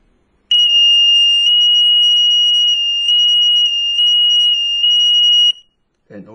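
A homemade laser light gate alarm sounds a loud, piercing, continuous electronic tone for about five seconds with a few brief dips. It then cuts off, followed by a short clatter.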